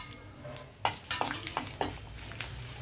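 Garlic, cumin and dried red chillies fry in hot oil, giving a soft sizzle broken by a series of clinks and scrapes as the spoon stirs against the pan.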